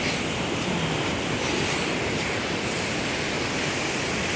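Sea water washes up onto a sunny beach in a continuous broad hiss of surf, steady and fairly close, with no voices over it.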